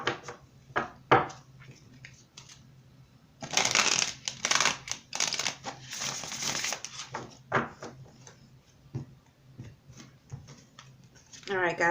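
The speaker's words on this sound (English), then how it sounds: "So we're going to go ahead and pull some advice cards or obstacle cards" Tarot cards shuffled and drawn for a reading, bursts of riffling and slapping card noise that come and go in clusters, fairly close and loud, with quieter gaps between.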